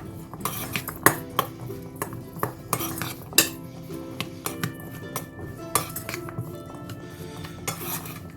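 A spoon mixing hummus with cumin in a bowl, producing repeated clinks and scrapes of metal against the dish in an irregular rhythm, close and clear, with no one talking.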